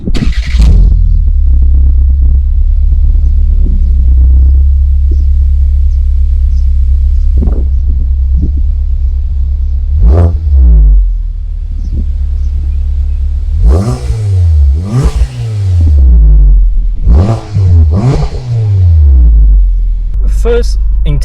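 A 2016 Volkswagen Golf GTI MK7 engine starts with a loud rumbling idle, then several sharp, close blips of the throttle rev up and fall back in quick bursts, with a voice heard speaking early on.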